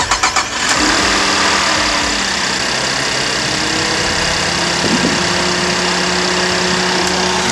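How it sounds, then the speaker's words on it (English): A car engine cranks and catches, then settles into a steady, loud idle that runs without a break, with a hint of knock in the idle. The car has a radiator fan fault and high air-conditioning pressure. "let's start the engine."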